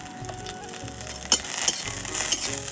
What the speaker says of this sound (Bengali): এখন একটু কড়াইতে তেল দিয়ে দেবো।